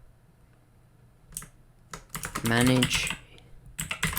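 Fast, crisp keystrokes on a computer keyboard come in quick bursts with short pauses between them, close and fairly quiet, and a voice speaks briefly over the typing.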